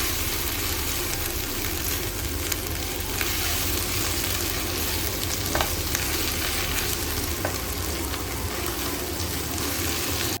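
Sliced onion frying with garlic paste in hot oil for a mutton curry, a steady close sizzle and crackle running unbroken throughout, with a few soft scrapes from stirring and no voices.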